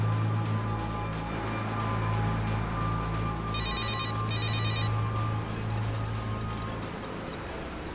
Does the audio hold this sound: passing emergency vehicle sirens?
no